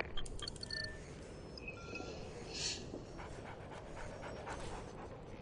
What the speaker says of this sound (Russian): О, собака.